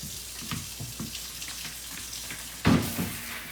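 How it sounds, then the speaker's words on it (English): Potatoes being washed under a running kitchen tap, a soft, continuous trickle of water with light splashes and handling, then a louder gush of water near the end. "like you always need to, wash your potatoes"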